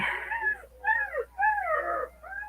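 Several young puppies whimper and whine in rising and falling cries, a few short bursts in a row, close by with no talking.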